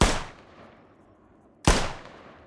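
Two loud, sharp 7.62x54R rifle shots in the game Squad, fired about a second and a half apart, each with a long fading echo tail.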